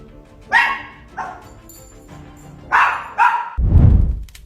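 A dog barks several times in short, sharp bursts, spaced irregularly, followed by a heavier low thump at the end.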